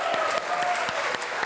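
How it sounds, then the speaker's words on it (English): Church congregation cheering and clapping together at a Sunday service, a dense, steady burst of applause and voices filling the room at moderate loudness for a short moment. "Let's do a cheer that he can hear up into the education building."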